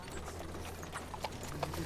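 Horses clip-clop as a mounted caravan sets off, a soft continuous patter of hooves on the ground, moderately close and fairly quiet, with no voices.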